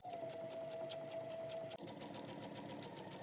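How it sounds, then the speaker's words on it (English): A sewing machine stitches close to a folded fabric edge at close range, its rapid rhythmic stitching hum continuing with a brief hitch midway, no talking. "now we're going to head to the sewing machine and we're going to stitch close to the folded edge"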